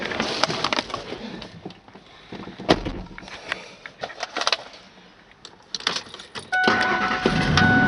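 A farm vehicle starting up for a short drive, with jangling keys, door clunks and handling knocks leading into an engine turning over and settling into a steady, loud running drone at the end.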